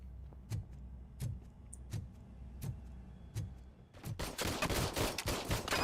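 Gunfire in the video game RoboCop: Rogue City: single sharp shots at a steady rhythm about every half second, then a dense, louder burst of rapid fire toward the end.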